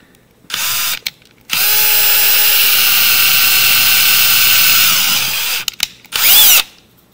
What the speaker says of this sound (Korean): 여기 구멍을 드릴 이용해서